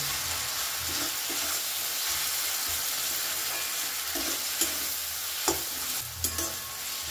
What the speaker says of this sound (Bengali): দিয়ে দিচ্ছি হলুদ গুঁড়ো, দেব 1 চামচ মতন লঙ্কা গুঁড়ো, ভালো করে মিশিয়ে নেব